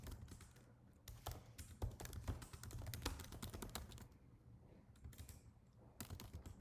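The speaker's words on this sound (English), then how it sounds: "I go here and I type the SSH terminal option" Quiet close typing on a computer keyboard, a brisk irregular patter of key clicks in short bursts with brief pauses, no voices.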